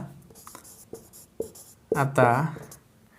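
Pen writing by hand on paper while working a class 9 maths triangle problem, a series of short scratchy strokes, with someone speaking over the later part.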